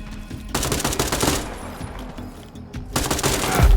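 Gunfire in a Tarkov-like PvE shooter: loud, close bursts of rapid automatic shots, a pause with lighter shots, then another heavy burst near the end, with no voices.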